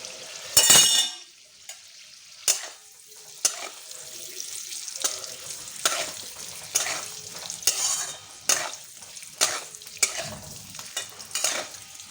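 Boiled potatoes seasoned with turmeric and salt fry in a pan for a jackfruit kofta curry, with a low sizzle punctuated by repeated loud stirring scrapes and clanks at irregular intervals, close and clear.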